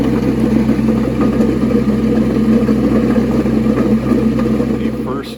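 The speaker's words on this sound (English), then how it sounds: "the old pellet mill." A homemade DIY pellet mill runs with a loud, steady mechanical drone and grinding rumble, close and continuous, tapering off at the very end.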